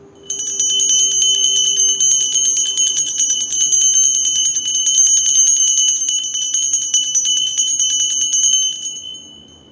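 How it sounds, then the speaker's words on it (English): A bell rung for a spiritual cleansing ritual sounds as a loud, bright, sustained ringing tone that carries steadily for about nine seconds with no talking, then stops. "I'm gonna ring the bell."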